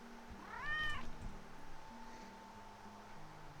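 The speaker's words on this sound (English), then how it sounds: "Keep hearing a cat." A single cat's meow rises clearly near the start in a quiet room, followed by low background hum and faint soft noises.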